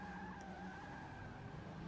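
A drift-built Hummer in Forza 6 skids with a steady, drawn-out tire squeal, held at an even level throughout, fairly quiet, with no voices over it.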